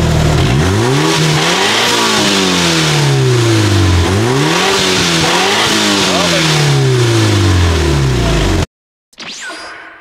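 A Mitsubishi Lancer Evo 6.5 Tommi Makinen Edition revs hard through its exhaust, with repeated rising and falling engine sweeps close by, loud and continuous, then cutting off abruptly near the end.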